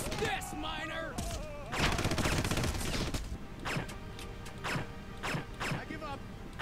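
Gunfire in the video game Red Faction comes in sharp bursts and single shots scattered through the stretch, mixed with mechanical game effects and heard beneath talking players.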